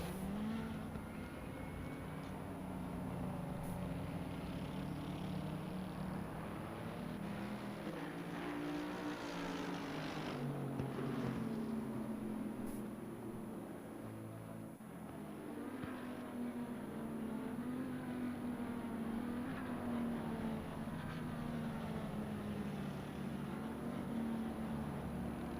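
Race cars rolling around Kyalami on a formation lap in a sim racing game, a faint, steady engine drone with gently wavering pitch and a continuous low hum underneath, no voices present.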